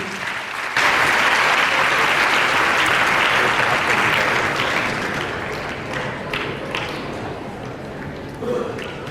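Audience at a medal and honors ceremony gives a painter loud welcoming applause as he comes onstage, dense clapping that swells suddenly, then gradually thins and softens, with a few individual claps near the end.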